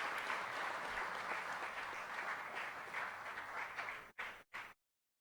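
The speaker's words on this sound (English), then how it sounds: "Can we give them a round of applause as they come forward?" Sustained audience applause greets school folk dancers coming forward at a diaspora forum, a dense, steady crowd clapping that cuts off abruptly at the end.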